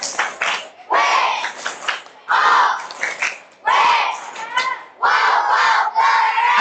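Children in a class clapping in unison and shouting "wow" as a group cheer, several loud bursts of rhythmic claps and voices separated by short pauses.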